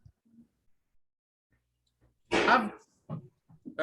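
A single sudden sneeze bursts out after near silence, followed by a couple of faint short breaths or sounds.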